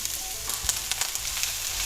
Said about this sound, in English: I'm just gonna heat some oil in a pan. It's sizzling.